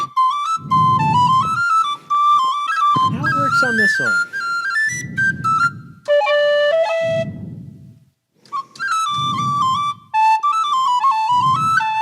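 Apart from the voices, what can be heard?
D tin whistle playing Irish tune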